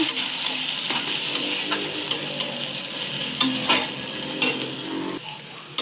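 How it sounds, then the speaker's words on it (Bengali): Garlic paste fries in hot oil in a pan for a Bengali potato dum, with a steady close sizzle broken by repeated scraping stirs and a few louder clatters, and no voices. "দেখো রসুন বাটাটা দিয়ে দিলাম। দেওয়ার পরে দেখো আবার কিছুক্ষণ ভালো করে লাল করে ভেজে নেব।"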